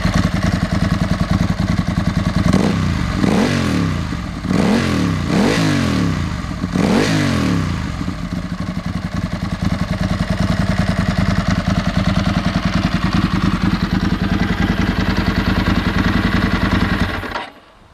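Motorcycle engine breathing through Termignoni exhausts, idling with a steady burbling thrum, then several sharp throttle blips rising and falling in quick succession before settling back to idle and cutting off, loud and close.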